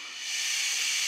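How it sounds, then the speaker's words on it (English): An air compressor blows air through a nozzle in a bandsaw cooling setup, a close, steady hiss that swells in the first moments and then holds constant, with no talking. "So let's try with an air compressor."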